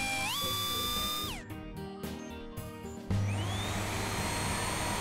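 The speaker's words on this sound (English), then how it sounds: "I don't think that little hairdryer will melt this cold snow shower." A small hair dryer whirs on in the Gecko's Garage truck cartoon, starting partway through after bright sliding musical tones and a few taps, then blowing steadily and loudly to the end.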